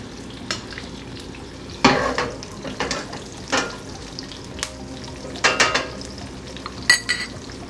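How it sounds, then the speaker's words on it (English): A coffee-rubbed steak fries in butter and cooking oil, a low steady sizzle punctuated by irregular louder spatters and clinks of a utensil against the pan, nearby and without voices. "You want to really get it all drenched in that butter and all the cooking oils and juices."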